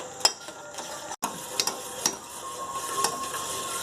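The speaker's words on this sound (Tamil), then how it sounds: "இப்போ மிக்ஸ் பண்ணிடலாம்." A spoon stirs boiling herbal tea with tea powder and palm sugar in a pot, giving scattered light clinks and scrapes over a soft bubbling hiss.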